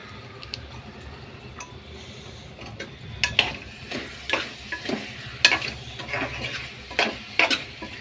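Vegetable rice with curd sautés in a pan, giving a low steady sizzle under a run of sharp scraping stirs and spoon clicks against the pan that grow busier after the first few seconds. No one speaks.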